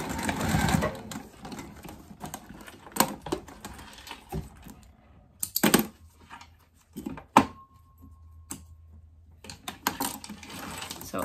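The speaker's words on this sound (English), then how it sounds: "And then I'm going to continue sewing." A sewing machine stitches a zipper onto a waist pack, giving short bursts of mechanical whirring and clicking between quiet pauses, close up and with no talking.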